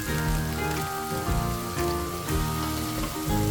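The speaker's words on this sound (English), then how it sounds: "Let's fry up those eggplants." Eggplants frying in olive oil for an eggplant, pumpkin and potato stew give a steady, close crackling sizzle like rain on a surface, with music-like tones running underneath throughout.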